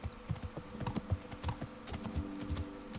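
Hooves of a ridden horse clip-clop along a road in the video game Kingdom Come: Deliverance, a quick uneven rhythm of hoofbeats heard fairly close at low volume.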